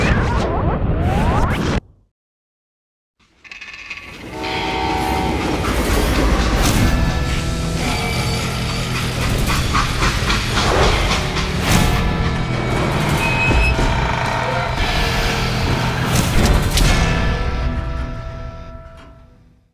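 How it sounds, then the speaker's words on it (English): A freight train in the video game Call of Juarez Gunslinger rumbles and clanks after a brief silent gap, with dense metallic rattles, whooshes and impacts layered over a continuous low rolling drone that fades near the end. "Now, how'd they stop this train in the first place?"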